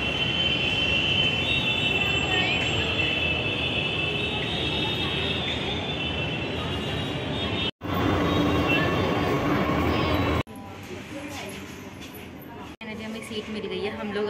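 Steady rumbling roar of a Delhi metro train in motion with a high whine above it, continuous and loud, muffled voices underneath, the noise briefly cutting out twice.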